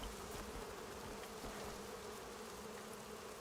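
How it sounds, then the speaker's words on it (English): Bees buzz steadily near an apiary in the video game Crimson Desert, a dense, continuous drone that holds at an even level throughout, heard alone with no voices. "Do you hear the bees?"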